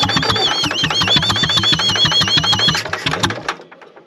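An old Fordson E27N tractor, left sitting for years, cranks and briefly fires with a rapid, rhythmic chugging and a high whine, loud and close, then stumbles and dies after about three seconds.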